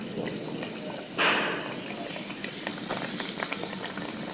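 Batter-coated eggplant slices (beguni) dropped into hot oil, giving a sudden loud hiss and sizzle that settles into a steady bubbling fry with faint crackles.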